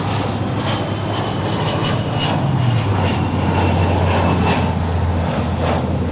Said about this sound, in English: JSX taking off.